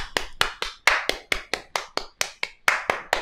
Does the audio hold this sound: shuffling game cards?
no